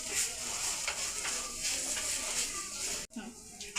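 Spices sizzle and hiss steadily in a hot pan while being stirred for masala bhindi (spiced okra). The sound is near and constant, and one brief scrape of the spoon cuts in near the end.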